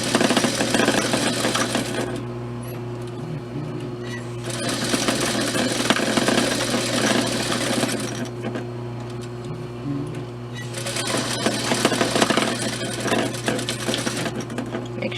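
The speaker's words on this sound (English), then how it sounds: "You're going to put those right sides together and sew around the curves, just like this, stopping at these 2 points." A sewing machine stitches dress fabric around curves in steady motorized bursts, running continuously, pausing briefly, then starting again, loud and close with no talking.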